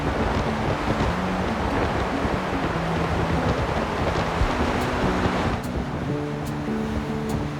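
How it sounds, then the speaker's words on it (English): Fierce wind buffets the microphone on a hiking trail in Torres del Paine National Park, Patagonia, a loud continuous roaring rumble that eases slightly near the end, with no voices. "This was where we truly experienced that famous wind in all its fierceness."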